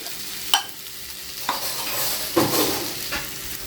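Garlic-chili paste ground on a grinding stone sizzles in hot oil, a close, soft frying hiss broken by several sharp scraping strokes of stirring.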